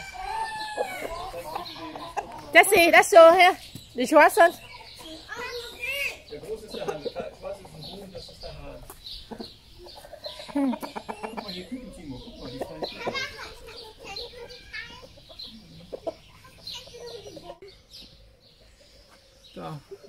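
Chickens of an unfamiliar breed cluck and squawk in a rural German farm setting, with a sharp louder burst early on and scattered calls throughout, mixed with people talking nearby.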